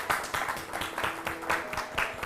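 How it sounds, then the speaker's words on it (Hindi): A studio audience at a women farmers' award show claps in a fairly soft, uneven burst of applause, individual claps audible against a faint steady hum. "जोरदार तालियां।"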